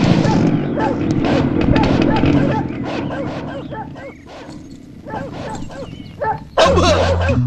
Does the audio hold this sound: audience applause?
no